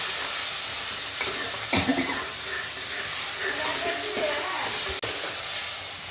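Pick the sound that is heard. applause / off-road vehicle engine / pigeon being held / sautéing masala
sautéing masala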